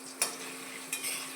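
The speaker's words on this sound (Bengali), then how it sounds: "এটা কাঁচকলা ভাজা" Raw green banana slices frying in a pan as part of a home-cooked puja offering, a soft, faint sizzle with a steady hum and two brief scraping knocks.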